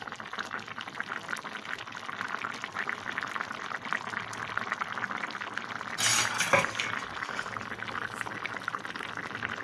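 A pot of mutton kola urundai kulambu, meatball curry in the Thanjavur style, bubbles steadily at close range, a soft continuous simmer with a brief louder clatter or stir partway through.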